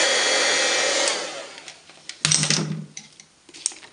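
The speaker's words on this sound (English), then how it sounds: "And just hold your heat gun still until you start to see the colour change" A heat gun melting copper embossing powder gives a steady, loud hot-air whoosh that fades after about a second, followed by scattered handling clatter and small knocks.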